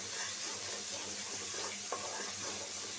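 Katla fish frying in oil on a stove gives a steady, dense sizzle close by, with a brief clink of the pan partway through and no talking.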